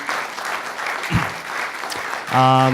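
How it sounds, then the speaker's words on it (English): A conference audience at a security track session applauds, a dense continuous wash of clapping throughout, with a brief voice rising over it near the end. "let's give him a round of applause"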